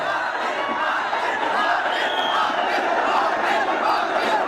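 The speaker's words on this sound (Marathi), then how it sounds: "या घोषणा केवळ या आंदोलकांच्या तोंडातून आपल्याला ऐकायला मिळतात" A large crowd of Maratha protesters in Mumbai chants slogans together, a dense, steady roar of many voices filling the scene without pause.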